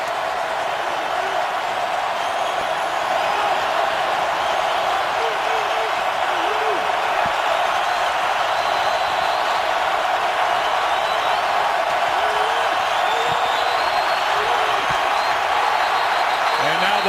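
Roaring stadium crowd at an NFL game between the San Francisco 49ers and New Orleans Saints, a loud, unbroken wall of noise with occasional shrill whistles and cheers on top.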